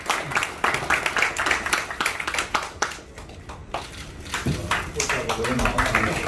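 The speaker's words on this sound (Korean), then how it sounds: "여러분 뜨거운 박수 부탁드리겠습니다" Applause and clapping from an audience, loud and steady, with a brief dip midway before swelling again, with voices mixed in.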